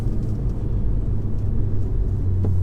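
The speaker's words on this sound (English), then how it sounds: "this engine, this EA 888, I say it all the time, but it is just an absolute beast for a 2-litre engine" Stage 2 tuned 2016 VW Golf R with its EA888 2-litre turbo engine, heard while driving as a steady low engine drone and road rumble from inside the car, with no talking.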